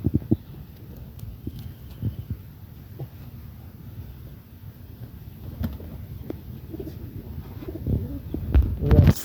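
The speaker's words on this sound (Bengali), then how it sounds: "এই যে আমার আর এক জোড়া দেশি কবুতর ডিম পেড়েছে" Native pigeons, a breeding pair with eggs, coo in low repeated murmurs near the listener, with occasional soft bird calls and faint background noise.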